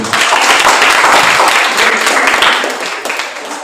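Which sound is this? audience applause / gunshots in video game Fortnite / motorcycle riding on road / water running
audience applause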